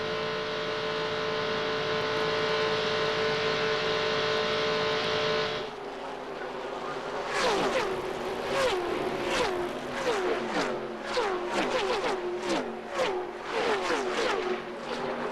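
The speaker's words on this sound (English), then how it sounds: "Car zipping by just over 185 miles an hour." An ARCA stock car races at Daytona at over 185 mph, first a steady loud onboard engine drone, then a rapid string of cars roaring past one after another, each rising and falling in pitch.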